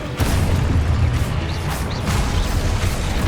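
Hogwarts Legacy spell combat produces a dense, loud explosion from a cast spell, rumbling with booming low-end crashes and gritty debris throughout the short burst.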